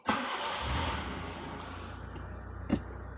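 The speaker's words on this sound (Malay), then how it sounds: "Seterusnya kita start engine." A car engine starts with a sharp crank and catch, then settles into a steady mid-pitched run that fades slightly. A brief bump follows near the end, heard alone and close.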